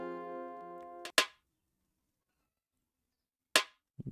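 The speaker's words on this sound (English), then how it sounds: "So this is a second snare." Second layered snare sample from an Afrobeat beat: a few sharp, snappy hits with silence between, following a short tonal tail at the start, close and clean with no talk.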